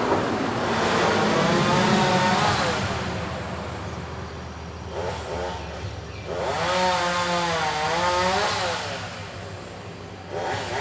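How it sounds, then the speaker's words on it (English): A chainsaw runs outdoors during a tree cleanup job, heard at a distance in long revving bursts that rise and fall, with a lull in between and a steady low rumble underneath. "You can hear him with the chainsaw out there."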